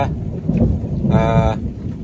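A summer thunderstorm with steady rain, heavy and close, filling the whole stretch with rumbling thunder and dense patter on surfaces.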